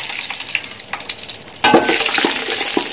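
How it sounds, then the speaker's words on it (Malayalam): A dried black lime, pierced with a small hole, sautéing in a pan for an Arabic chicken madghut rice dish, an abrupt rise into steady frying sizzle with scraping stirs, loud and close. "ചെറുതായി ചെറിയ രീതിയിൽ ഒന്ന് വഴറ്റിയെടുക്കാം"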